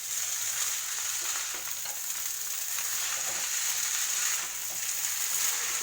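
Fried egg and Maggi masala being stirred into chowmein in a hot pan, giving a steady, close sizzle with light scraping and stirring throughout, no voices.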